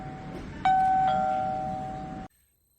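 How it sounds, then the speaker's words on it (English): A SHARKPOP 1080p wireless video doorbell camera sounds its outdoor chime, a single clear ding-dong tone that rings out and fades for about a second and a half before cutting off. "the bell rings outside, but you can't hear it from inside"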